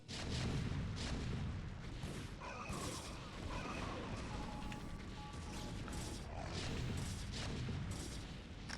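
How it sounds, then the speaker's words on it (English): StarCraft siege tanks shell Protoss probes in a steady, dense barrage of booming artillery blasts that rolls on without a break, loud and close. "Tanks shooting your probes usually a bad sign."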